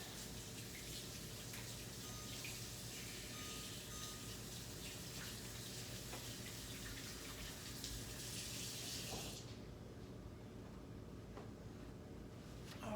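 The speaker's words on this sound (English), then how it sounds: "Wash my hands." Water runs from a kitchen tap during hand washing, a steady close rushing flow lasting throughout, its bright hiss dropping off partway as the stream is adjusted.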